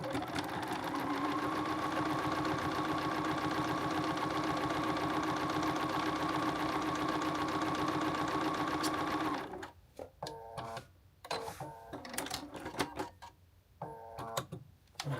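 A sewing machine runs continuously at a steady fast stitching pace while sewing an oversized blazer, then stops and gives way to short bursts of handling and intermittent mechanical clicks.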